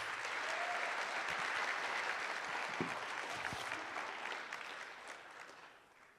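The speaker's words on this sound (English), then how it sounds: "Let's give one more round of applause for our baseball players." A crowd at a city awards ceremony applauds the baseball players, dense sustained clapping that slowly thins out toward the end.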